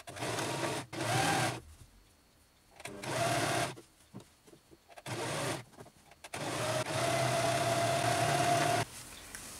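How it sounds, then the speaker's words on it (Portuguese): A sewing machine stitches a women's shirt in several bursts of whirring motor hum, short and long runs separated by quiet pauses, with the longest run near the end, close and clear with no talking. "Agora a gente vai passar a costura nela toda."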